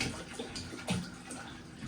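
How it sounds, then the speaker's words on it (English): Drinking water pouring from a water container or fountain into a cooking pot for bone broth, a steady close splashing stream that runs continuously for a couple of seconds with no talk over it. "I'm just going to fill this with my drinking water from my water container, my water fountain"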